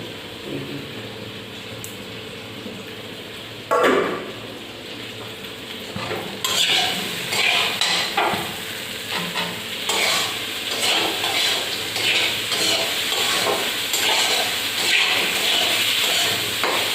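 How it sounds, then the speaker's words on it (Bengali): Fish, potatoes, cauliflower and bori are stirred and sautéed in a pan, giving a steady sizzle with scraping and clinking of a utensil against the pan, a sharp knock near the start and louder stirring later on, with no talking. "আলুটা দিয়ে আর এবার আমি এগুলো কষিয়ে নেবো ভালো করে"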